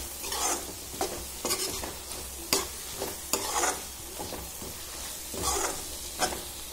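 Garlic and masala sizzle and fry steadily in a pan, punctuated by repeated scraping stirs of a spoon every second or so, with no talking.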